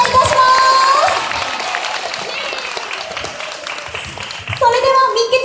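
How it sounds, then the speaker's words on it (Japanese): An audience at a Funabashi market stage show claps warmly for the mascot Mikke-chan, a full, steady round of applause that fades gradually, with a voice speaking over it at the start and end. "見たい方、拍手をお願いいたします。"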